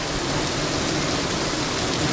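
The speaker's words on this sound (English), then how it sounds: "But it is pouring outside." Heavy rain pours outside in a dense, steady, hissing wash that fills the whole moment, with no voices.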